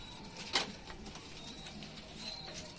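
Rajshahi Giribaz pigeons coo softly in the background, with a brief sharp clack near the start and a faint flutter.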